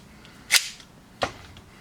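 Two sharp, loud gas-blowback shots from a GSB Dragon 6-inch full-auto Tokyo Marui Hi-Capa airsoft pistol, spaced roughly 0.7 seconds apart, with quiet room tone around them and no talking.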